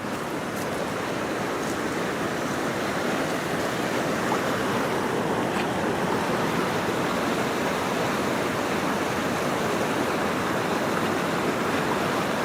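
A conglomerate rock found while rockhounding in Washington State rinsed under running water, a continuous even rushing splash close by, steady in level from start to finish with no speech.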